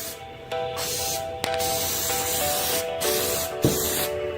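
A spray gun lays a heavy final coat onto a car's center console: a continuous close hiss that starts and stops in several bursts, with a faint mechanical hum underneath.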